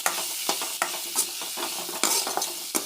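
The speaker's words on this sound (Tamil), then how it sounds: "இப்போ இந்த எண்ணெயிலே இது வதங்கட்டும்" Eggplant frying in hot oil with turmeric and salt, a steady close sizzle broken by several quick stirring scrapes of a spatula in the pan.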